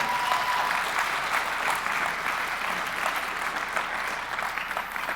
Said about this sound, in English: can you guys give a round of applause to our Speed the Light team?